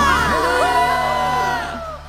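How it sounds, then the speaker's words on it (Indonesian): A church congregation cheers and whoops loudly in praise, a dense swell of overlapping voices that holds steady and then fades toward the end. "kasih tepuk tangan yang meriah untuk Tuhan Yesus. Sorakan haleluya."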